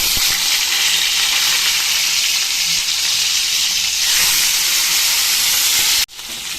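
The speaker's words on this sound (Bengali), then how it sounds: "এবার দিয়ে দিচ্ছি মাছের মাথা।" Fish head frying in hot mustard oil in a wok, giving a loud, steady sizzle that fills the whole stretch and dips briefly just before the end.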